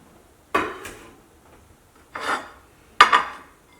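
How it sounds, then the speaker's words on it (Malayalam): A potato is peeled with a hand peeler while cooking a Kerala dish, giving three short, close rasping scrapes spaced about a second apart over a quiet background, with no talking. "ഉരുളക്കിഴങ്ങ് ഫസ്റ്റ് തൊണ്ട് കളഞ്ഞിട്ട് എടുക്കുക."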